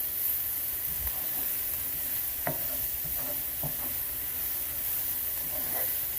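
Chopped onion sautéing in oil in a pan gives a steady, close sizzle and hiss, with a few soft scrapes of stirring. No voices are heard.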